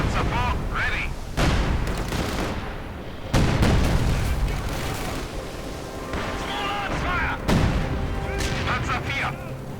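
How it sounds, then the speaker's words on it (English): In the game Company of Heroes 2, a field gun fires repeatedly, several loud booming blasts spaced a few seconds apart amid battle noise, with a commentator talking over them. "Field gun there firing away."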